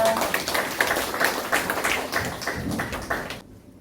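A church congregation at a Sunday afternoon worship service claps together, a dense run of overlapping hand claps that carries on for several seconds nearby before cutting off abruptly.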